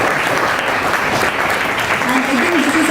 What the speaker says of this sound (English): A big round of applause for the team who have done this.